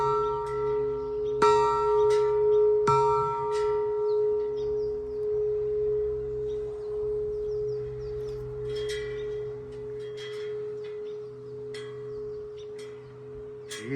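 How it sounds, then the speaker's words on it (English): A steel I-beam archway bell sculpture in an outdoor sculpture park rings with bright metallic strikes early on, leaving a long sustained hum that decays slowly beneath later faint chimes and birdlike tones. "And this is the I-Beam Steel Archway Bell by Tom Torrens."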